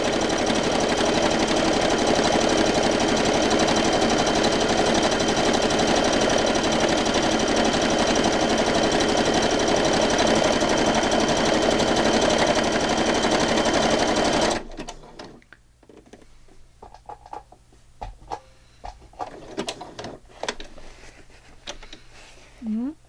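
A sewing machine stitches steadily for about fifteen seconds, a loud continuous mechanical whir and patter close by, then stops, leaving quiet handling noises and a speaking voice.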